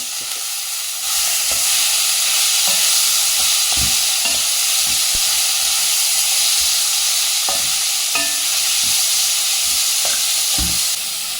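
Steady hissing sizzle of rice frying in hot ghee for green pea pulao, with scattered scraping and clinking from stirring throughout.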